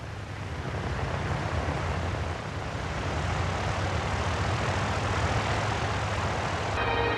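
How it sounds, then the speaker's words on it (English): Engines of a B-29 bomber being restored run at maximum power to break its wheels free from frozen mud and snow, a loud continuous roar with a deep droning pulse that holds steady without a break. "The plane has frozen into the mud and snow, and it takes maximum power to break the wheels free."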